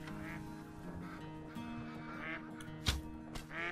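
Ducks quacking in the hunting video game theHunter: Call of the Wild, several calls overlapping over steady game ambience, with one sharper burst near the end.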